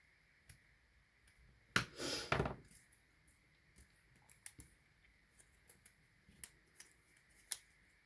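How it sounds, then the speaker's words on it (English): Scissors trimming paper for a strawberry basket craft, one short burst of close cutting snips followed by scattered faint clicks and light handling taps in a quiet room. "I'm just going to trim those off"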